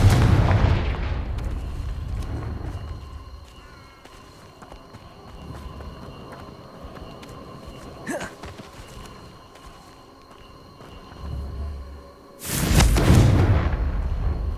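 Confringo fire spells blasting in the video game Hogwarts Legacy, booming explosive bursts at the start and again near the end, with quieter rumbling and clatter between.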